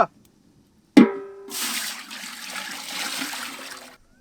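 Water poured out for boiling mutton in a village kitchen: a sudden splash followed by a steady gushing pour lasting a few seconds before stopping, close and moderately loud.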